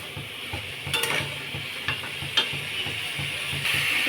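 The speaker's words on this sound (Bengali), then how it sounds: "ভালো করে একটু কষিয়ে নেব।" Watermelon rind vegetable curry sautéing in a pan, a steady close sizzle with repeated scraping stir strokes and occasional clinks of the spatula, no talking.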